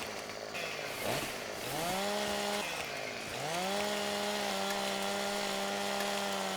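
A chainsaw trims branches from a felled tree in a farming simulator game, its engine revving up and settling into a steady high whine twice, close and loud with no talk.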